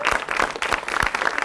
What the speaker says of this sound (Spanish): Un aplauso para Maritín.